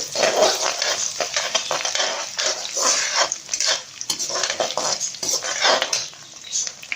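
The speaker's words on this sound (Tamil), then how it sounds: "ஒரு மீடியம் ஃப்ளேம்லேயே வச்சு வதக்குங்க" Small peeled shallots, cut up, sautéed in a pan over a medium flame, with a continuous loud sizzle and frequent scraping and stirring clatter against the metal.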